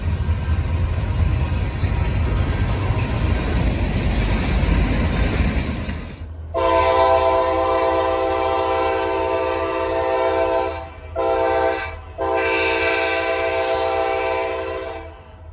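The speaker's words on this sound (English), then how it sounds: "You probably noticed that this train has a laship of 3 locomotives, yet is only pulling 2 rail cars." A local freight train led by three locomotives pulling two rail cars passes close by, loud rumbling giving way to long, sustained horn blasts broken by brief gaps.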